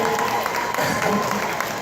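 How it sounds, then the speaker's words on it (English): An audience at a horse show in a big arena claps steadily in a dense, continuous patter throughout, close and fairly loud. "you're not clapping anywhere near enough for that"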